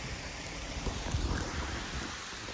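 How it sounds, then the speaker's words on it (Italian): Calm lake water at Lake Garda laps softly and steadily, a gentle continuous wash of small ripples with light wind noise, no voices. "Sentite la tranquillità dell'acqua"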